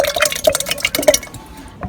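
Liquid pours and splashes into a vessel in a series of uneven glugs and drips while yogurt goes in for lassi in a village kitchen. The pour is close and fades out near the end.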